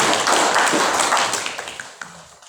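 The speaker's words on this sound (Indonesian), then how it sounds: "bagi tepuk tangan kita sekalian Pak Yufes." An audience at a school principal handover ceremony in Weri Pateng breaks into loud, dense applause that gradually thins and fades, with a few last scattered claps near the end.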